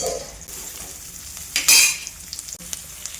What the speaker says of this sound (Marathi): तर हा फक्त उभा कांदा मी परतून घेणार आहे